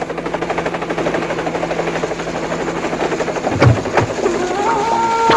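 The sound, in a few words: helicopter arriving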